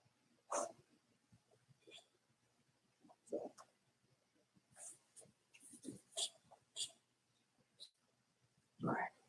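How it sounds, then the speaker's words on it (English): A dog barks in short, scattered bursts at moderate distance, several separate yelps spread across the stretch with quiet gaps between them and no talking. "Somebody's got some barking dogs"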